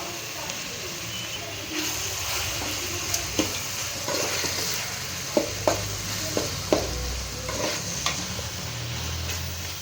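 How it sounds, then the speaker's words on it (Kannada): Onions frying in a pan with chilli powder, coriander powder and egg biryani masala, a soft sizzle under repeated sharp spoon scrapes and taps against the pan, with no voices. "ಸ್ವಲ್ಪ ಹೊತ್ತು ಬ್ರೌನಿಶ್ ಆಗೋ ಹಾಗೆ ಸ್ವಲ್ಪ ಹೊತ್ತು ಈರುಳ್ಳಿ ಬೇಯಿಕೊಳ್ಳಿ"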